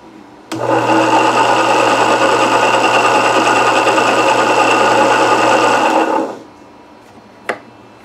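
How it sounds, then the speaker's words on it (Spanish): A coil winding machine for 76 mm voice coils runs steadily for about six seconds with a loud, even motor hum and whir, then winds down. A single sharp click follows near the end. "esta es mi máquina de hacer bobina"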